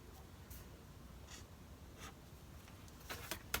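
A pen drafts a green line along a ruler on paper for a bodice front pattern, a faint scratchy stroke sound repeating in short passes with a few louder scrapes near the end; no talking.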